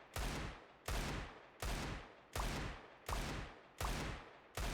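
Desert Eagle pistol shots ring out in a video game aim-training session, six loud, evenly spaced single shots about three-quarters of a second apart, each a sharp crack with a short decaying tail.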